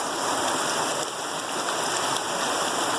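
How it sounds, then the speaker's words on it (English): Flash flood water rushes out of a roadside culvert in North Central Arkansas, a loud, continuous broadband roar of churning water heard up close with no voices. "Sounds like a full-on river"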